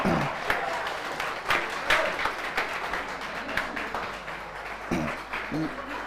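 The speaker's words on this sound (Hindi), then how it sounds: "बंद करो तालियां।" Students clapping in a classroom during a lesson, a loose patter of hand claps with several sharper bursts, heard close alongside ambient room noise and occasional voices.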